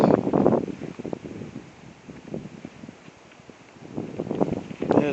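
Gusty high wind outdoors in Portage, Michigan, buffeting the microphone in rough rumbling surges that swell loud at the start and end, with rustling and faint voices mixed in.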